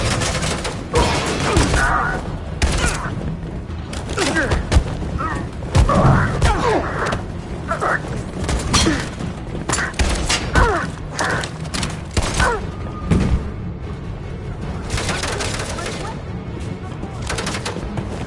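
Suppressing gunfire in the Detroit: Become Human video game, with sharp shots and thuds scattered over a long stretch, mixed with shouting voices and a busy, loud background.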